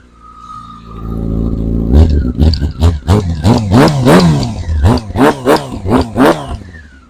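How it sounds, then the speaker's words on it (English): A 600cc sport motorcycle engine starts from a low idle, then gives a rapid series of loud, close throttle blips that rise and fall sharply, about a dozen revs in quick succession. "Do a quick rev before killing it off."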